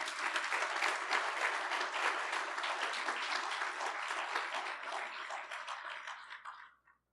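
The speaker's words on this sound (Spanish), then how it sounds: "denle un aplauso a Cristo" A church congregation breaks into loud, sustained applause that fills the space for several seconds, then tapers off and fades out at the end.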